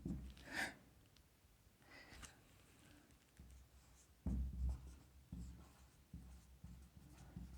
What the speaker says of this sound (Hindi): यहां पर हम लिखेंगे एम्पेरर।